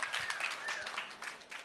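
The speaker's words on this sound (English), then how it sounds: "So please, a round of applause for our panelists." An audience at an investment expo in Dubai applauds the panelists on stage, a brief burst of scattered clapping that sounds somewhat distant in a large hall.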